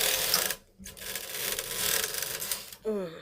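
Old Toyota knitting machine carriage running a row across the needle bed with weights hung on, a steady close mechanical rattle with a brief pause midway and a short whirring sweep at the end.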